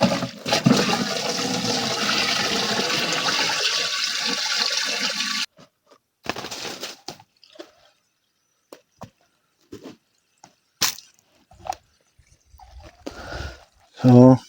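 Water pours steadily into a homemade fertilizer mixture made with a small can of sardines, a continuous rushing splash for about five seconds that then stops, followed by scattered faint knocks and a short burst of voice at the end.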